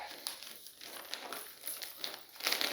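A plastic bag holding three paper maps of Belgium, tucked inside an M38 Swiss uniform jacket, crinkles and rustles close up in a steady stream of crisp, uneven crackles that grow louder near the end, with no talking.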